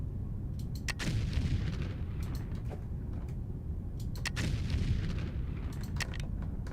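Bombs going off in the Foundry game as a tunnel is blasted through a mountain, heard as repeated booming explosions over a constant rumbling mechanical background.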